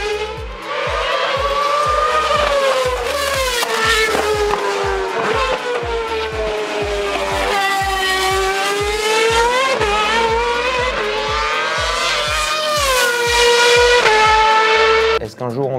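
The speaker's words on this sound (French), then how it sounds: "c'était très beau de voir tourner cette RB7 à Bathurst" A Red Bull RB7 Formula 1 car laps the Bathurst circuit, its loud, high engine note rising and falling through repeated gear changes, with a steady rhythmic low thump underneath.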